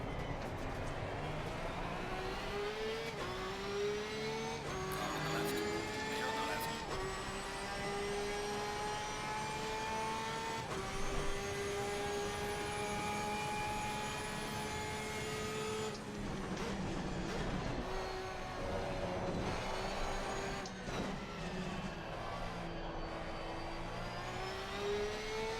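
A race car in Assetto Corsa Competizione, lapping Suzuka in an online race, revs loudly and continuously. The engine pitch climbs again and again as it accelerates out of corners, with gear changes between the rising sweeps.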